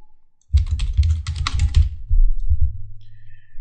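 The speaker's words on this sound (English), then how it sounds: "Click the little plus icon and type in a server name." Brisk typing on a computer keyboard starts after a brief silence, a dense run of close keystrokes followed by a few heavier, slower taps, alone without any voices.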